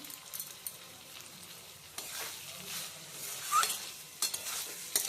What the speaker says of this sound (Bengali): চিনি দিয়ে আবারও নেড়ে চেড়ে নেওয়া হলো